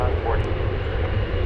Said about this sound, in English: it's an Airbus A321 American Airlines coming in